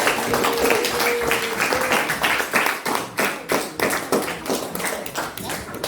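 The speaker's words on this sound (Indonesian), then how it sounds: "kita beri tepuk tangan untuk teman-teman" A classroom group claps together after a student presentation on Indonesian agriculture. The clapping is dense and rhythmic, loud and close, and turns into more distinct, evenly spaced claps toward the end.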